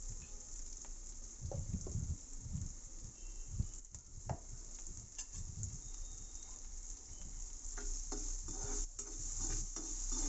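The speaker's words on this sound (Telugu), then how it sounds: "గోల్డెన్ బ్రౌన్ వచ్చే వరకు వేయించుకోవాలి" Drumstick and cashew mutton curry ingredients fry in a pan until golden brown, a steady soft sizzle running throughout with intermittent scraping stirs and clinks of a spatula, close and moderately quiet.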